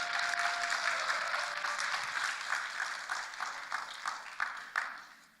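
Applause for the accompanist from an audience at a church mission-fair founding service, steady clapping that fills the moment and then thins into scattered, uneven claps toward the end.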